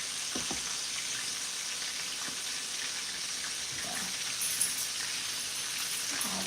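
Pasta sauce bubbling in a pan on the stove, a steady hissing simmer with occasional soft pops, near and unaccompanied.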